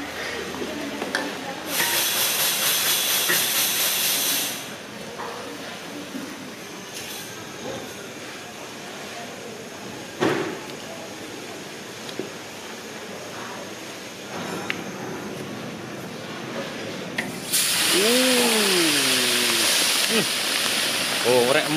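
Oil spatters and hisses loudly as large pieces of food fry in a big pan at a busy Madura food stall, the sizzle surging in long bursts, while people talk over it.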